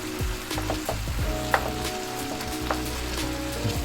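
Jjajangmyeon sauce sizzling in a pan while it is stirred, a steady close fry with a few sharper clicks of the utensil against the pan, heard alone without talk.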